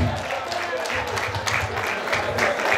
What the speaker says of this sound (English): please let's give Mr Oyewole a round of applause, the celebrant, in his opening remark